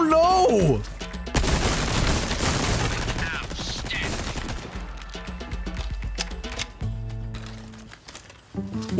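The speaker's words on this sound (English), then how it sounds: "Oh, that's the shotgun." Shotgun firing in Resident Evil 4, a heavy boom followed by scattered shots and clattering game effects, loud at the start and tapering, with a voice talking alongside.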